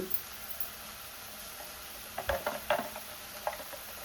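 Tomato pieces fry with dried prawns in a pan, giving a steady soft sizzle with a few brief louder crackles and stirring bursts.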